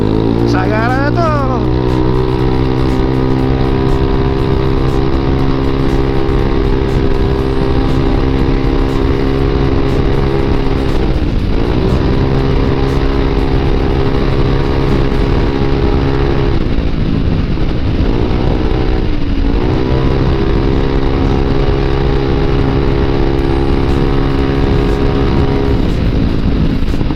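Modified Yamaha Aerox scooter riding at speed, its engine droning loud and continuous with pitch rising and falling as the throttle eases and reopens, heavy wind rush throughout, someone talking over it.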